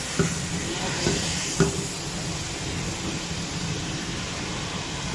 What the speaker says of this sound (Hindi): अब हम इस स्टेज में डालेंगे अपना मटन। ठीक है, इसकी भी थोड़ी सी भुनाई करेंगे।